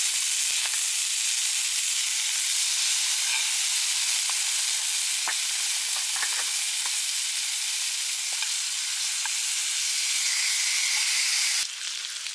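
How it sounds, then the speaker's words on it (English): Lamb fat sizzling in a pan over a campfire, a loud continuous close-up hiss with scattered crackles and pops throughout and no talking. "Get the good sizzle."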